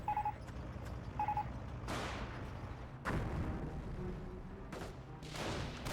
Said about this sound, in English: And soon a grenade was thrown there.